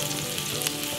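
Carrots sizzle steadily in an Instant Pot, a continuous close frying hiss with no pauses, loud and even throughout the brief moment.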